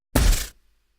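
A layered missile launch effect for the heavy assault rifle in Doom: a single loud, short burst of energy lasting under half a second, cutting off cleanly into silence.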